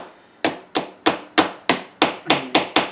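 Chiselling a gingerbread house foundation: nine sharp, evenly spaced knocks over three seconds, each a crisp close hard tap with a short ringing tail, no voices.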